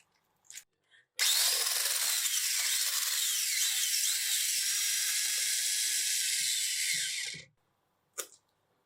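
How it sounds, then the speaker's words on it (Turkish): Eggs and sugar are whisked with a loud, steady motorised whirr lasting about six seconds, framed by a few brief clatters before and after. "Yumurtayla şekeri güzelce bir çırpıyorum."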